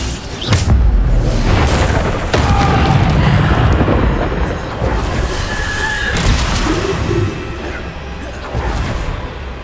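Repeated Bombarda explosion spells blast in Hogwarts Legacy combat, several heavy booms and crashing impacts over a loud, continuous battle din with rumbling low end.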